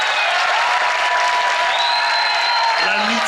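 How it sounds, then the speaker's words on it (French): Crowd in Guadeloupe applauds and cheers a Route du Rhum sailor's arrival, loud continuous clapping mixed with voices and a few whistle-like tones. "On applaudit très fort une nouvelle fois."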